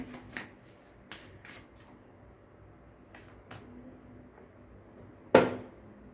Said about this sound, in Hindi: एक कार्ड और लेते हैं हम इस डेक से